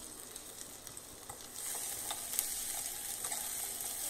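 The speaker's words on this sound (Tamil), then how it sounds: "சின்ன வெங்காயத்தையும் கட் பண்ணி இதை நல்லா இப்போ ஃப்ரை பண்ணிடலாம்" Garlic, curry leaves and shallots fry in oil for a fish pollichathu, a soft, quiet sizzle that swells slightly, broken by light stirring clicks, with no voices.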